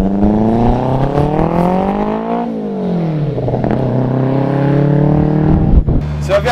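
A Hillman Imp fitted with a BMW 1200cc motorbike engine drives along, its engine droning loudly and steadily with pitch rising and falling as it revs through gears, close and continuous throughout.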